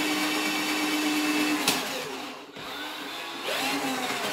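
A Tack Life electric drain auger runs in reverse, humming and whirring steadily up close, with a brief dip in the middle as the motor changes before it picks up again. No voices are heard.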